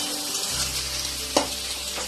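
Sliced onions fry in oil in a pan, a dense steady hiss and sizzle close up with one quick clatter of a stirring utensil midway.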